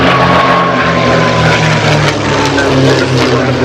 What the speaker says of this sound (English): Right there, the B-17